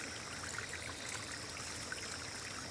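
Mountain water trickles and flows steadily through a forest stream in the hills, a soft continuous burble heard up close with no voices.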